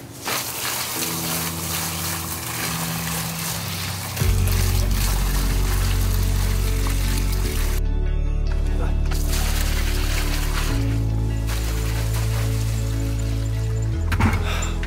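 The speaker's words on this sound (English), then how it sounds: "So let's get to unloading bucket loads and bucket loads of this rainwater into the pond." Buckets of green rainwater are poured into a backyard pond, a rushing, splashing pour that starts after a few seconds and runs loud and continuous, with brief pauses and a thunk near the end.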